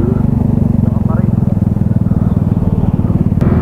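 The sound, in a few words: motorcycle engine idling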